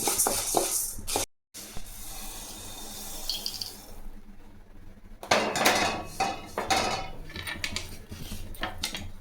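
Roasted millet grains poured out of a pan for a homemade multigrain flour, a close rattling clatter of metal and grains, with a brief gap and then a second burst of scraping and rattling.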